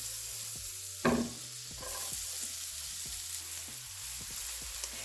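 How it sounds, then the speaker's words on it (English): Onions sauté in butter in a pan, giving a steady, close sizzle with a few brief clatters of stirring and no talk. "we are going to saute our onions"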